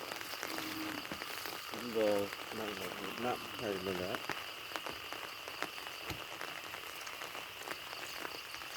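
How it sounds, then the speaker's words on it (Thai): Heavy rain falls at night at a home in Non Sung, a steady broadband hiss of drops on surfaces, with a voice speaking briefly early on. "ฝนตกอยู่บดคืน"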